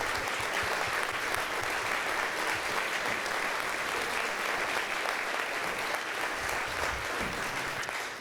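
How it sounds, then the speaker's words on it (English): A seated audience at a centennial celebration claps steadily for board members standing up, sustained even applause lasting several seconds without any voices. "Let's give them a round of applause."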